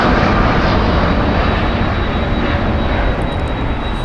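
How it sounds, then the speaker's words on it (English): United Airlines Boeing 787-9 Dreamliner jet departing, a steady loud broadband engine roar sustained throughout, close and alone with no talk. "That was United Airlines Flight 1395 going to Washington. The Boeing 787-9 Dreamliner, 7 years old."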